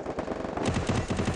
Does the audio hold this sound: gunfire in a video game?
yes